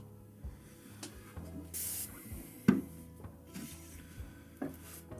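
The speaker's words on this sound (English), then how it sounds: "I'm hitting them with water again because I'm going to want to stamp them and add badges" Water is sprayed in one short burst onto freshly trimmed clay pottery, a hissing spray standing alone in a quiet workshop with a few light knocks of handling around it.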